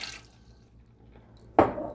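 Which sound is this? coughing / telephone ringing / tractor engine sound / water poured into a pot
water poured into a pot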